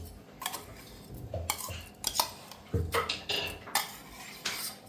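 Metal utensils clink and scrape against a kadhai as ingredients for traditional wheat kheer with jaggery go in, a series of close, sharp clatters and knocks at an irregular rhythm with no talking.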